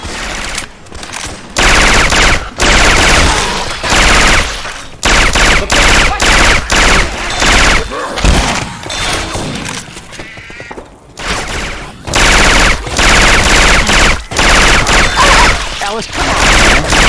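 Rapid bursts of automatic gunfire from Syphon Filter weapon sounds in the Left 4 Dead 2 game, loud and close, firing in repeated volleys with short gaps between them.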